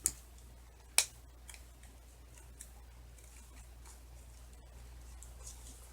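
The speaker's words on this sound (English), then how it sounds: "I think I need a smaller scissor. And cut this lining out." Small scissors cut through fabric lining. Two crisp, close snips sound at the start, followed by fainter scattered clicks over a quiet background.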